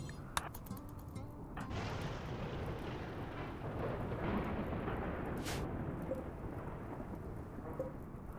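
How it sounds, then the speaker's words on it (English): Thunder from a dry thunderstorm in the video game RimWorld, a low continuous rumble rolling on under a hiss like rain, faint and distant throughout, with no voices. "dry thunderstorms actually used to be pretty cool"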